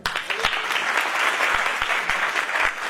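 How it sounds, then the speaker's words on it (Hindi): An audience at a Christian sermon breaks into loud, dense applause, a sustained burst of many hands clapping for a few seconds. "तालियां बजाएं।"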